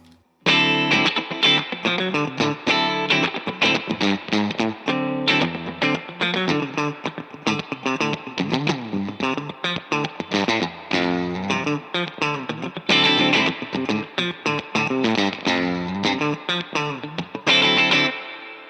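A PRS McCarty 594 electric guitar plays a steady run of notes and chords through a 2-Rock Classic Reverb amp with a clean tone, full and continuous with no talking.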